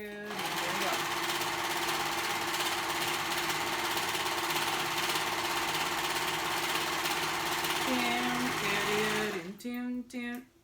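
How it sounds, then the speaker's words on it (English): A serger sewing machine hums loudly and continuously at close range, a steady mechanical drone that holds for about nine seconds before slowing and stopping in a few short stutters, with someone humming a tune over it. "my serger is so loud"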